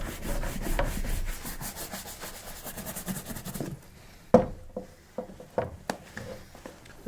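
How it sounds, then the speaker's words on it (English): A buffing brush works over leather boots in brisk, rhythmic rubbing strokes for a few seconds up close, then falls to quieter scattered brushing and soft knocks. "Now I'm gonna buff them both with the buffing brush."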